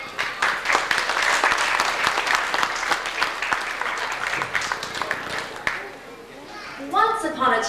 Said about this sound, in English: Let's have a round of applause for Sally Lindbergh